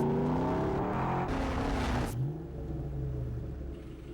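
Ford Mustang GT with a powerful engine, revving loudly with a rising roar that cuts off sharply, then settling into a lower, throaty rumble as it pulls away, alone without speech.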